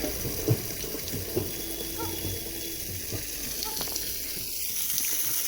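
Water flows in to irrigate terraced hill farm fields, a steady, soft rushing with a few faint knocks and clicks, and occasional voices in the background.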